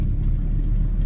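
A car driving through the mountains of Karnataka, heard from inside as a steady, loud low engine and road rumble with no voices.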